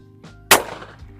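A single sharp shot from a UGC Venus custom Italian side-by-side shotgun firing a target load, a loud close blast that cuts off abruptly and leaves a short fading tail.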